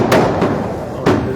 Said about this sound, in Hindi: आतिशबाजी की जा रही है